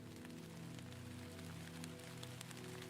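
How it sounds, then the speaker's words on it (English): Steady rain falls on a surface at dawn, a soft continuous patter of drops with faint individual ticks, low and even throughout, with no voices. "as the rain began to fall"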